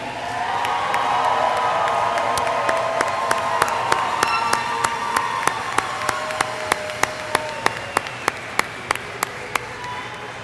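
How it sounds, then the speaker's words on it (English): A commencement crowd applauds and cheers for university graduates, a broad wash of clapping and shouts, while a sharp, regular ringing tap like a cowbell strikes repeatedly over the second half. "Let's give them one more round of applause, can we?"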